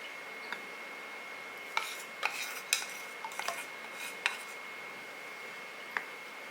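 A spoon scrapes and clinks against a pot while tender coconut payasam is stirred with coconut milk and condensed milk, giving scattered sharp taps and rasps over a soft steady background hiss.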